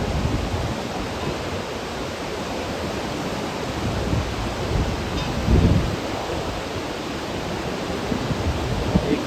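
Steady broadband rush of river water at Devprayag, where the Alaknanda and Bhagirathi meet to form the Ganga, heard from a high viewpoint as a constant roar with no talk, a brief low thump midway.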